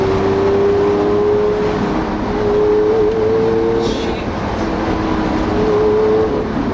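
A Lamborghini Aventador LP700-4 heard from inside the cabin while driving: a loud, steady engine drone with road roar and a faint whining tone. Brief speech may blend into the noise.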